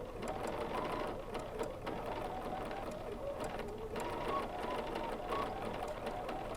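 Sewing machine stitching a free-motion pebble quilting design on fabric, a steady close mechanical whir with rapid needle clatter running throughout, alone without talk.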